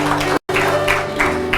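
A church congregation claps together, a bright, busy patter of many hands broken by a brief gap of silence, with faint voices mixed in.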